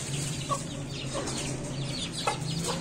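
Chickens cluck softly around a young rooster and a large chick gathering for food, with a few short sharper calls standing out over a steady low hum.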